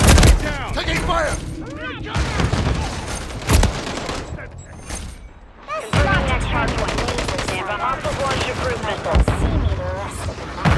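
Rapid automatic gunfire and bursts in Call of Duty Domination multiplayer, dense loud crackling shots running almost nonstop with brief lulls, while game voice callouts are heard amid the shooting.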